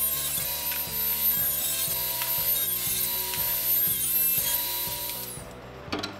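A table saw fitted with a thin-kerf ripping blade cuts a wooden keepsake box, giving a sustained high whine with a steady series of rhythmic rubbing clatters before the blade winds down and stops.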